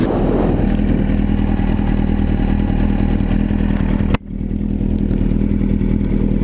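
A motorcycle engine runs loud and close as the bike accelerates on the road, with a sharp clatter or thump near the end before the engine note settles back.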